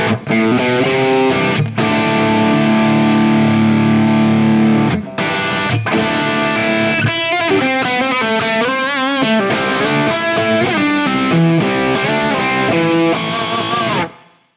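An electric guitar runs through an Origin Effects Revival Drive pedal set to its British preamp voicing, giving loud, crunchy, distorted chords and riffs with a few short breaks over about fourteen seconds, with no voices.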